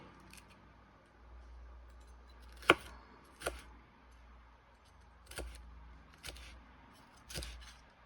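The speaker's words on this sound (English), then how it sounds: "I'm cutting the ribs out because they are bitter and yucky." Jalapeno peppers being cut with a knife on a cutting board to remove the ribs, giving a handful of sparse, soft chopping taps at uneven intervals over quiet background.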